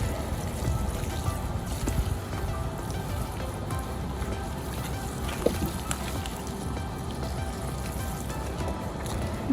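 Water pours and trickles steadily into the soil of a potted Monstera adansonii, a continuous close splashing and dribbling with no talking.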